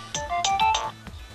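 A mobile phone ringtone plays a quick, bright melodic run of electronic tones, close and fairly loud, over a few brief notes.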